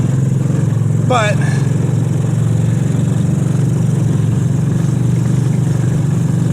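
The small engine of a mini jeep, around 9 horsepower, drones steadily at low pitch as it drives along, loud and close throughout, with a brief whistle-like squeal early on and a voice briefly over it.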